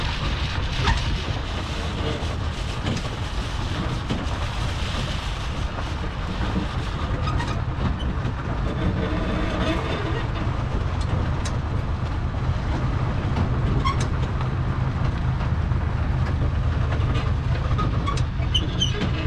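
A museum tram rolls steadily past a Navy and Marine airplane collection, a constant loud rumble of wheels and motor with faint rattles throughout, no voices.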